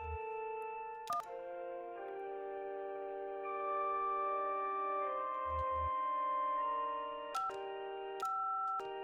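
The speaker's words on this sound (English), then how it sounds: "Oh, organ music." Sustained organ chords heard over a phone line in the video game Kentucky Route Zero, thin and narrow like telephone audio, with a few clicks and a low thump breaking in.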